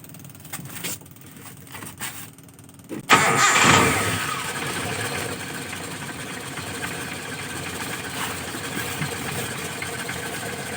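A car engine fitted with a TCI pulser cranks and catches after quiet handling noises, then settles into a steady, moderately loud idle.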